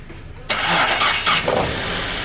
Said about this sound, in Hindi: ये हमारी गाड़ी स्टार्ट हो गई।